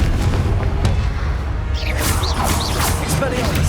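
Confringo fire spell exploding in Hogwarts Legacy, a loud booming burst with crackling debris and a swishing tail that follows an earlier impact, all over a dense, continuous game soundscape.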